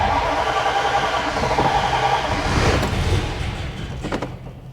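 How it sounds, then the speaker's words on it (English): A Roadrunner car engine running with a little gas, a steady broadband rumble that swells slightly before easing off, sounding close and continuous with no talk. "Okay, I just gave it a little bit of gas."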